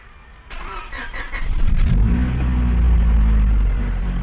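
A 1990s Honda SiR engine cranks and catches, then settles into a loud, steady close idle with a deep rumble and a slight rise in revs.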